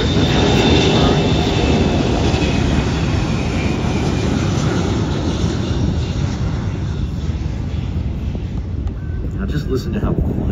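A KC-135 tanker aircraft rolls down the runway at an air show at MCAS Miramar, a loud, broad jet engine roar that holds steady and then slowly fades, with wind buffeting the microphone.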